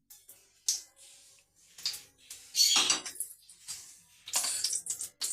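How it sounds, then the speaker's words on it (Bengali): A spoon stirs butter in a pan while making rice-flour gola ruti, producing close, intermittent metallic clinks and scrapes with short pauses between them. "বাটারটা একটু চামচ দিয়ে হিলিয়ে নিব"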